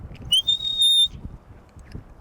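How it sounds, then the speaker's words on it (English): A shepherd's whistle gives a Border Collie stop command: two sharp, high notes, a short rising chirp then a longer steady tone, loud and close over faint background noise on an Appalachian farm. "So this is called a shepherd's whistle."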